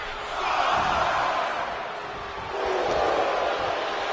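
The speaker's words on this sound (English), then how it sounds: "There's not a single person sitting in this arena. It's pandemonium, Cole." A packed arena crowd roars in the WWE 2K25 wrestling video game, a loud, dense wall of cheering that swells and holds throughout, close and continuous.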